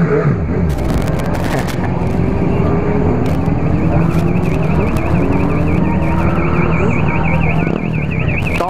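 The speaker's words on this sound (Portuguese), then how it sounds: "Tome alarme disparando." A car alarm blares at night, its warbling electronic siren sounding continuously and loud over a rumbling motorcycle engine and street noise.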